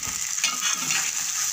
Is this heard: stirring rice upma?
yes